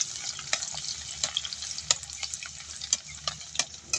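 Aromatics sizzle and fry in plenty of hot oil for fried eggplant, a steady crackle close by, broken by sharp pops and occasional stirring clinks.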